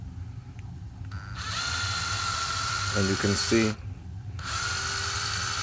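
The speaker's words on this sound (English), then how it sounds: "I want to drill right into the center." A high-pitched small drill whirs steadily for several seconds drilling into a resin model kit, stopping briefly midway, while a person speaks over it.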